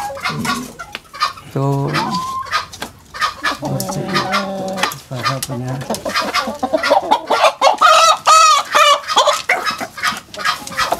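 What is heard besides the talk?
bekisar junglefowl hybrid chicken clucking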